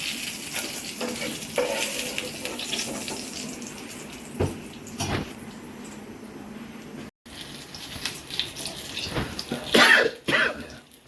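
Onions, aubergine fritters and potato chops fry in hot oil on a gas stove. A steady close sizzle runs throughout with stirring clatter and scattered sharp knocks, and no one speaks.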